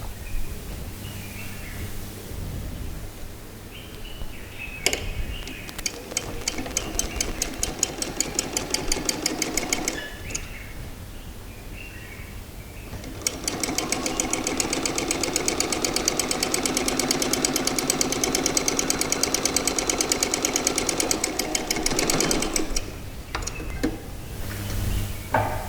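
A sewing machine runs top stitching along fabric in two long stretches, a rapid rhythmic needle chatter over a motor whir, the second run louder and longer, with quieter pauses before, between and after.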